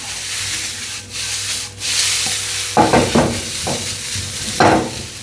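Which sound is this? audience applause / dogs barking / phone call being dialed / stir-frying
stir-frying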